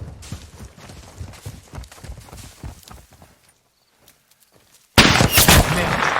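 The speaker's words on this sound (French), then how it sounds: "Homme à terre! Sniper ennemi sur le toit." A sudden loud blast of enemy sniper gunfire in Call of Duty Modern Warfare 2 on PlayStation 5 breaks the near silence. Before it come soft shuffling footsteps and movement.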